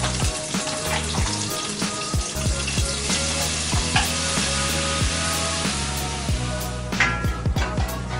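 Butter and flour roux toasting in a pan, with a steady close sizzle and frying crackle and repeated rhythmic scrapes of a utensil stirring through it, no voices.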